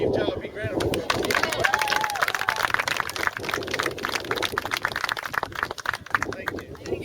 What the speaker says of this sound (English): can we all give Joe a big round of applause?